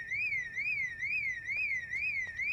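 Car alarm in the video game Project Zomboid, a piercing electronic siren that sweeps up and down in a steady repeating cycle, loud and unbroken over faint background noise.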